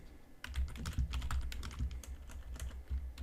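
Fingers type a search on a computer keyboard, a quick, close run of clicky keystrokes in an uneven rhythm over a low room hum, with no talking.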